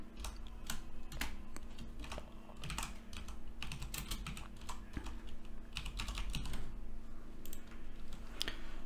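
Steady typing on a computer keyboard while a text is entered into a report, with a continuous run of quick, close key clicks and irregular, clattering taps and no talking.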